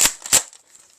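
Two sharp snapping shots from a Hasbro Nerf Aliens M41-A Pulse Blaster toy, close and loud, followed by a fainter clicky electronic rattle that trails off.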